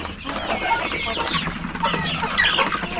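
Native hens in a backyard pen clucking steadily and continuously, several birds close by and fairly loud, with no talk.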